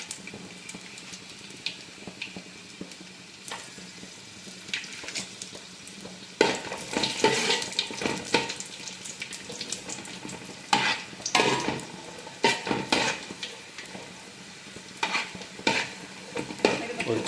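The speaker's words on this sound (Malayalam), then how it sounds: "ആദ്യം അണ്ടിപ്പരിപ്പ് വറുത്ത് കോരിയെടുക്കാം." Cashew nuts fry in hot oil for a biryani, with a constant sizzle and repeated close scraping stirs of a spoon in the pan that become louder and more frequent after the first few seconds.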